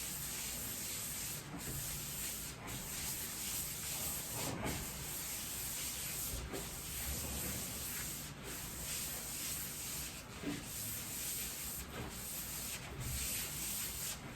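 A hand rubs a CTD pad in small circles over a bowling ball, a soft continuous sanding hiss with faint periodic swishes, steady and close with no talking.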